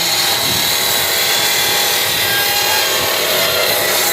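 A homemade brick-cutting saw cuts facing brick, grinding loudly and steadily from start to finish, a harsh continuous rasp with no voices over it.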